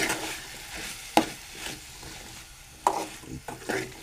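Cooked kidney beans (rajma) are stirred in a pan over a soft sizzle, with two sharp spoon clanks against the pan and quieter scraping in between, fairly faint and close.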